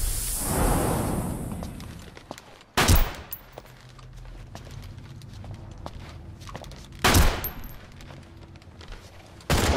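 Gunfire crackles in Metal Gear Solid 5 as soldiers shoot at bodies, with two loud close bursts standing out against a busy background of distant shots, footsteps and ambient game noise, and no talking.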